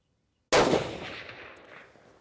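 A single loud rifle gunshot cracks at an outdoor range after a moment of silence, then a long echo fades away.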